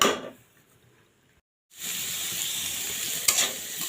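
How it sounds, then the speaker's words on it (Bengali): Drumstick flowers (sajna phool) frying in a pan, a steady close sizzle that cuts out for a moment near the start, then resumes loud and continuous with a brief clatter. "এখন এটা একটু আমি আগে ভেজে নিব। এটা আমি লাল লাল ব্রাউন কালার করে ভেজে নিয়ে"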